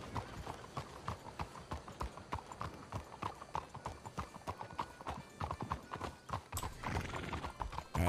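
A video-game horse clip-clops in a quick, steady rhythm of close hoofbeats throughout, with a whinny breaking in near the end; no talking.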